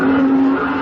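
Radio sound effect of street traffic, with a car's tires squealing in a sustained, loud screech over a low engine rumble, short and alone.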